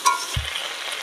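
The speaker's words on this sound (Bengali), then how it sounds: "তো এবার মশলাটা আমি দিয়ে দেবো। সুন্দর করে কষিয়ে নেব।" Ground ginger and cumin spice paste frying in hot oil for a cauliflower and potato curry, with a short low thump as it goes in, then a steady close sizzle and stirring throughout, no talk.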